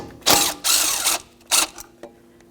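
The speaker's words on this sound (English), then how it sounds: "Take your two mounting bolts for your ABS sensor bracket and your front flex hose bracket out." Ratchet with a 13mm socket backing out mounting bolts on a Jeep Patriot's front strut area, heard as a few loud, close bursts of rapid clicking separated by brief pauses, with no voices.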